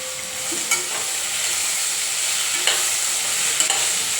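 Vegetables for veg pulao stirred and fried in a pan, a steady close sizzle with a few brief scraping stirs, no voices.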